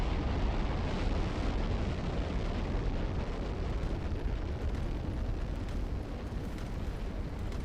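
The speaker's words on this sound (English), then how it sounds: "we're launching a rocket. And boy, is that loud." A rocket launch in the video game Automation Empire roars as a continuous, loud, broadband rumble that holds steady for several seconds with no voices over it.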